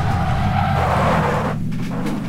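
Dacia car in PUBG skidding across the ground, a loud, close, continuous roar and scrape of engine and sliding tires that drops off near the end.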